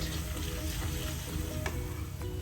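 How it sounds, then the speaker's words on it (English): Turmeric is stirred into a sizzling pan of pumpkin, radish and potato curry, a dense, steady frying hiss with a couple of soft scraping stirs, close and continuous. "And to this I'll be adding the turmeric and a good stir to it."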